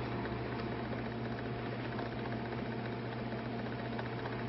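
A PlayStation disc drive spins a disc with a steady, low mechanical hum and a faint whirring buzz, constant and close, with no talking.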